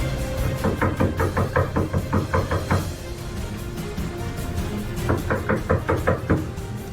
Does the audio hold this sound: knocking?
yes